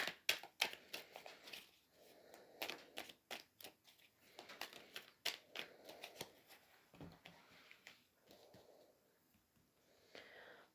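Oracle cards are shuffled by hand close up, giving a busy, quiet stream of papery riffles and flicks with soft rustling between bursts and occasional light breaths.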